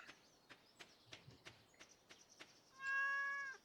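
A cat meows once in the Stardew Valley video game, a clear drawn-out mew following a run of light, evenly spaced tapping game sounds, with no talk.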